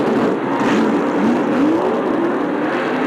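A 1989 stock car spins a full 360 at Martinsville Speedway. Engine drone and tire noise roar continuously with a rising-and-falling whine over dense race-track din, loud and unbroken for about three seconds.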